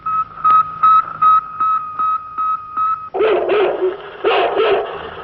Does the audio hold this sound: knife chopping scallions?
no